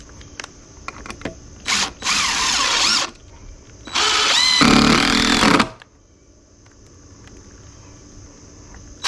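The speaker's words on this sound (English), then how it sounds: "we're going to screw it to the joist, right about like that. And you want to use 2 screws so this doesn't spin on you." A power drill driving screws into a wooden deck joist, two steady whirring bursts of about a second and a half each, close and loud, separated by a short pause with no talk.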